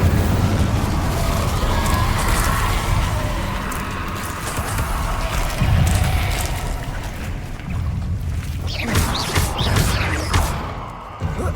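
Incendio fire spells cast repeatedly in the Hogwarts Legacy video game, dense booming bursts and crackling whooshes over a loud continuous battle din, with sharper flares near the end.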